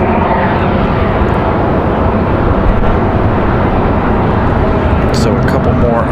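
A Delta Airbus A220 jet departing Raleigh Durham International for Boston on a windy day roars with a loud, steady, broadband engine rumble that holds constant throughout, with wind noise mixed in.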